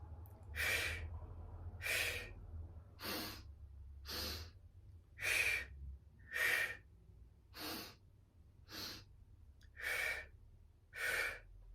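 Deep rhythmic breathing during a kundalini pranayama exercise for bad backs: about ten strong, evenly spaced breaths, close and clear, with no talking.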